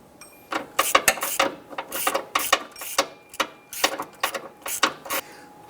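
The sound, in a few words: ratchet with swivel head extension on 13mm bolt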